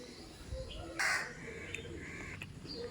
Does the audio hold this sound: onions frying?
no